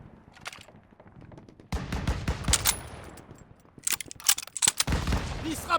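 Rapid bursts of machine gun fire in the World War II shooter Call of Duty WW2 crackle in dense volleys, with explosive gunfire clusters and battlefield noise throughout and no talking.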